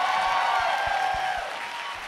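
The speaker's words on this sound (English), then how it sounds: "y'all can applaud for that." Audience applause at a DragCon convention panel, a brief steady burst of many hands clapping that gradually softens, with a faint tonal hum beneath.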